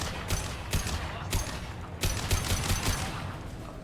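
Gunfire from Blue Suns mercenaries and Vorcha in Mass Effect Legendary Edition: rapid, fairly loud volleys of sharp shots crackle in an uneven rhythm, some bursts close together.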